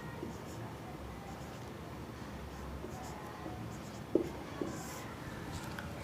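Numbers being written on a board during a maths lesson on squaring numbers: a soft, steady scratching with a couple of faint taps near the end, low and close, without clear talk.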